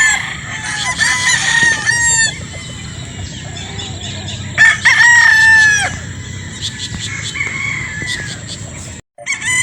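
Loud gamefowl roosters on a game farm in Batangas crow repeatedly up close, overlapping calls with some clucking between them, no one talking.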